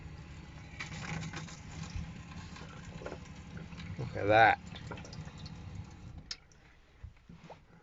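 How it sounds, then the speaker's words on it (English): Water runs quietly from a camper van tap for several seconds, with a short louder gush partway through, as someone speaks briefly. "I'll turn the old water on."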